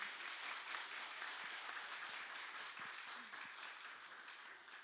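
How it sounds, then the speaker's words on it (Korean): Church congregation at a Korean Wednesday evening dedication service applauding, sustained crowd clapping heard fairly close and even, slowly tapering toward the end. "우리 인사할 때 크게 박수해 주시기 바랍니다."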